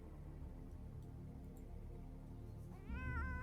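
A cat in the video game Underrail lets out a single clear, close meow near the end of a quiet stretch of game ambience.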